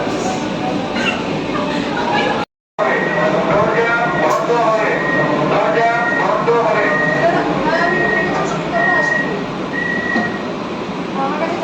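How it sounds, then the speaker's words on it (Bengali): The first AC local train of Eastern Railway pulls out on the Sealdah–Ranaghat route with a loud continuous rumble and a drawn-out tonal whine. Voices are heard in the carriage, and the sound cuts out briefly once. "ছেড়ে দিল প্রথম কলকাতার এসি লোকাল ট্রেন।"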